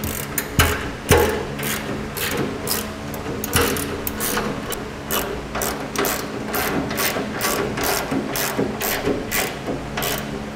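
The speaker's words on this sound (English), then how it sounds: "Now we will tighten up our rails to our frame bracket." A ratchet clicks in quick steady bursts while tightening the rails of a B and W underbed gooseneck trailer hitch to a frame bracket under a 2017 GMC Sierra, close and loud with brief pauses between strokes.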